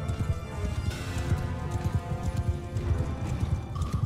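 Rapid hoofbeats clatter in a steady galloping rhythm in Mount & Blade II: Bannerlord, loud and close, with a rumbling, game-like background under them and no talking.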